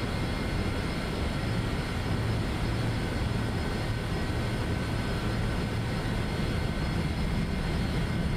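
Embraer ERJ-135 jet engines in a flight simulator game give a steady, loud, broadband roar with a low hum that holds constant and unbroken throughout.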